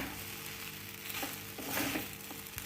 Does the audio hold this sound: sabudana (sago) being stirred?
yes